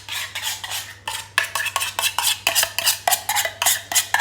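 Cooked onions and spices being stirred in a pan, a rapid string of scraping, clattering utensil strokes close by in a steady rhythm, with a low hum underneath.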